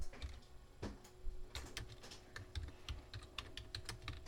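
Keystrokes on a computer keyboard come in quick, irregular clusters of crisp clicks at close range, typing out text with short pauses between bursts and no voices.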